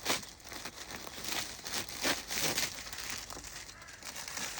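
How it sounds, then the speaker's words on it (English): Cellophane wrapping is pulled off a bouquet of arranged flowers, giving quiet, close crinkling and rustling bursts that continue unevenly throughout. "just take all the cellophane off"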